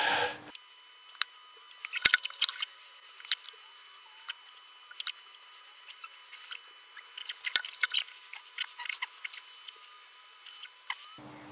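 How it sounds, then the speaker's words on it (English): Water drips and splashes while a telescope part is rinsed, with irregular wet squishes, drips and small taps close by throughout, and no talk. "I'm gonna rinse."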